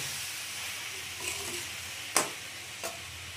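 Potato and pumpkin being stirred into a papaya curry in a pan, a faint steady sizzle with a couple of sharp scraping knocks from the spoon, no talking.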